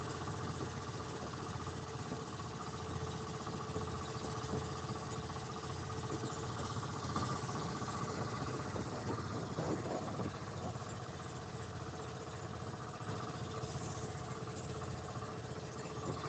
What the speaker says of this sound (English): Another fishing boat coming back.